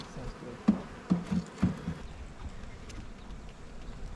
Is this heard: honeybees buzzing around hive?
yes